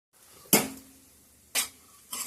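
Radish (mula) bhaji stirred in a pan with a spoon, three distinct scraping clanks of metal on the pan spaced about a second apart over a faint background.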